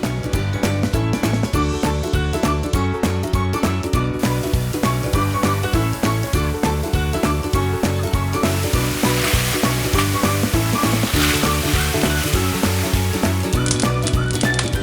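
Hot oil sizzles steadily as churros dough fries in a pan, a constant crackling hiss running beneath rhythmic background music.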